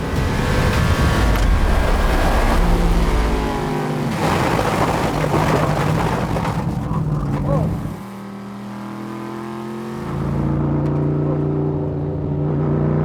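Big Red, a race-tuned Camaro, roars at high speed and loud, its engine note dropping sharply as the car slides sideways off the track, then surging again.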